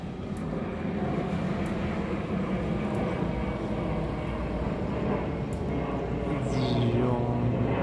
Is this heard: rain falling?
no